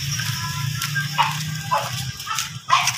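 A dog being groomed gives several short yips and barks over a low steady hum, close and fairly loud, with brief pauses between the calls.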